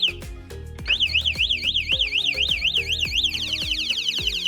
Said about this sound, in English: probably the coolest accessory that you can get, and I do recommend it, is the built-in alarm.